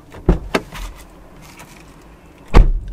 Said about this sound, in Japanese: やっぱ扉の音すごいわ。